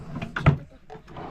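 An empty wooden drawer is pulled open in a campsite cabin at a highland camp in Magelang, giving a short scrape with a sharp knock in the middle, close and fairly loud.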